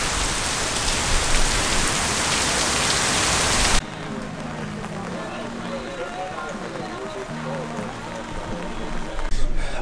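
Heavy rain pours down steadily and loudly, a dense hiss that drops to a lighter patter on a surface partway through, with faint voices in the background.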